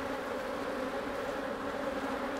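Honeybees buzzing steadily and close during an inspection of a beehive, a dense continuous drone with no voices.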